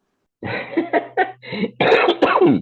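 A series of harsh, close coughs in quick bursts, growing louder and more forceful toward the end, with no talking.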